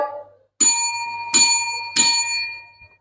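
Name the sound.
bell signalling the end of the trial time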